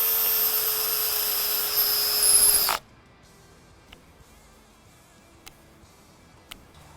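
A cordless drill runs with a high steady whine for a few seconds, then cuts out abruptly as its torque clutch stops the motor, leaving near-silence broken by a few faint clicks.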